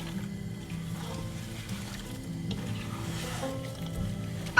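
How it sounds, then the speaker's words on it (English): Half a cup of water hits meat cooking in a pot for khara masala gosht curry, with no oil added yet, producing a steady moderate sizzle and bubbling that ends with a sharp knock. "I'm going to add half a cup of water in here so the meat can cook nicely"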